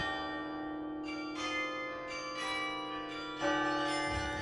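Tourcoing carillon of 62 bells in various sizes, played from a console, striking a sequence of clear resonant notes with long ringing decay, steady and close, with a louder bell strike near the end.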